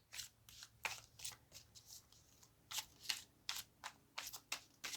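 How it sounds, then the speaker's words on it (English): A deck of cards being shuffled in repeated crisp riffles, close up, each burst a quick papery flutter with short pauses between. "I have to remember to slow down when I'm shuffling."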